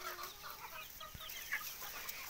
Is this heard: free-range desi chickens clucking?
yes